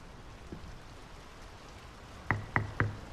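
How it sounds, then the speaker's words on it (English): Steady rain hisses in Draugen, a game set on a quiet coastal village, with a faint knock early and then three sharp knocks in quick succession near the end. "The rain's picking up."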